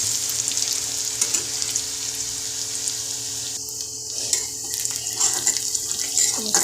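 Onion, mustard seeds and curry leaves frying in oil for poha, a steady hiss and crackling sizzle with light stirring, close and continuous throughout.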